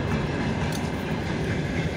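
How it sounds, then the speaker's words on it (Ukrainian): A heavy freight train rumbles steadily across a railway bridge nearby, a dense continuous roar with faint clattering and no voices. "О, потяг грузовий пече. Через мост їде, так грюкоче здорово."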